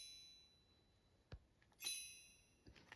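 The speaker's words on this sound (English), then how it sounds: "This is a bell that Miss Cindy gave me when I got saved." A small bell, a keepsake kept in an ammo box, gives a bright ding with a shimmering high ring, then a few fainter taps and clinks nearby in an otherwise quiet room.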